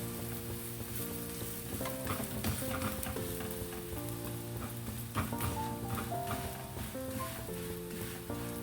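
A paratha roasts in a pan with a steady soft sizzle, heard alone under a continuous musical backing.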